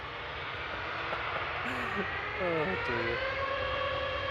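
An easyJet airliner departing Manchester Airport for Krakow rumbles at a distance, a steady broad engine roar with rising tonal whine, while people talk quietly nearby.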